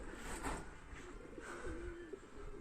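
Tired racing pigeons back from a 600 km race cooing softly, with low, wavering coos repeating quietly up close in a calm loft.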